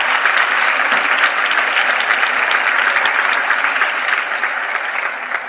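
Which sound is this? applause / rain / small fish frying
applause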